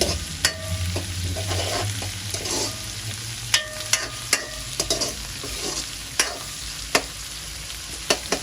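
Food sautéing in a pan with a steady sizzle, broken by repeated sharp clinks and scrapes of a utensil stirring against the metal, close and clear with no talking.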